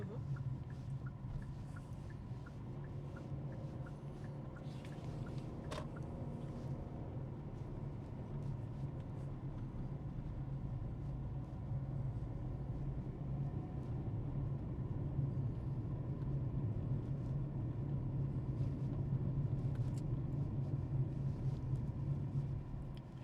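A car driving along a road and slowing over speed humps, a low steady engine and road rumble that swells slightly later on, recorded from inside the cabin.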